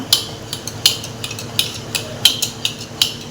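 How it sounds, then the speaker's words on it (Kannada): Thick curd and oil beaten together in a mixing bowl for a homemade cake batter, a steady run of about ten crisp clinks and taps of utensil against bowl at an uneven rhythm, close and clear. "ಈಗ ಅದನ್ನು ಎರಡನ್ನೂ ಚೆನ್ನಾಗಿ ಬೀಟ್ ಮಾಡ್ಕೊಡೋಣ ಮಿಕ್ಸ್ ಮಾಡ್ಕೊಳ್ಳೋಣ ಈ ಥರ"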